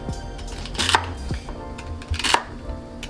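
A knife chops through about three stalks of celery on a cutting board, with two sharp, close thuds and lighter taps between them, no voices.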